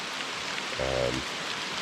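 Heavy rain drums steadily on a canopy over a campsite, a constant dense hiss throughout with a brief low hum in the middle.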